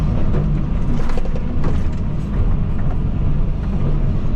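A John Deere 130 hydraulic excavator loads stony material into a small truck, its engine a steady, loud, close rumble throughout with scraping and clatter on top.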